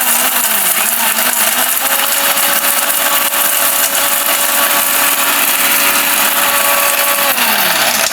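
Powerful electric blender running loud and close for the whole stretch, its motor holding a steady high whine with a clear pitch drop at the start and again near the end.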